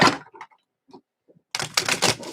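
A deck of tarot cards is shuffled and riffled close by, with a few light taps and flicks first, then a dense burst of crisp, papery fluttering snaps over the last second.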